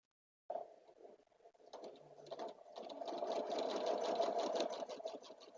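A sewing machine stitches through a quilt, starting with a few short bursts and then running in a steady, fast, close whirring rhythm, with no voices.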